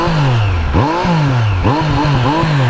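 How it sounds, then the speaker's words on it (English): A Triumph Street Triple RS exhaust barks through quick throttle blips, several sharp rising revs, each dropping back to a lumpy idle, loud and close with no talking. "Have a listen to that exhaust."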